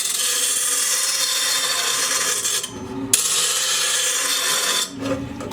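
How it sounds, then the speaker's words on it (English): Hart bench grinder sharpening a steel lawn mower blade, a continuous loud harsh grinding rasp with two brief breaks where the blade lifts off the wheel, then resumes steadily. "you just turn your grinder on, and then just going to go ahead and get in there."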